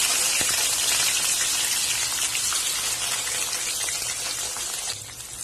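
Brinjal pieces fry in hot oil with a loud, continuous crackling sizzle that holds steady and eases slightly near the end, with no talk over it.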